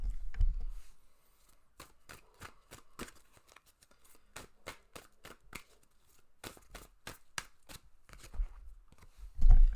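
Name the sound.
shuffling tarot cards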